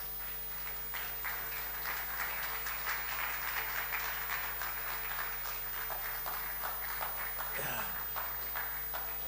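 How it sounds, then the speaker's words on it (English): An audience at a financial reporting talk gives a speaker a round of applause, a fairly faint spread of clapping that holds steady over a low hum before tapering. "I think we need to give him a heavy round of applause"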